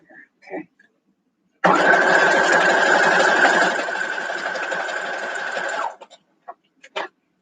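A domestic sewing machine stitches a quilt block in one steady, continuous run of about four seconds, loud and close, with brief handling clicks before and after.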